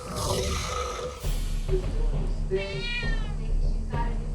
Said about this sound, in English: I got Kitty Cat meowing.